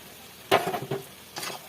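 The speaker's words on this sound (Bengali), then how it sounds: "মশলার সঙ্গে এটা একটু ভালো করে নেড়ে নিলাম" Eggs being stirred into masala in a pan, heard as a couple of brief scraping and clinking stirs over a faint sizzle, close and quiet.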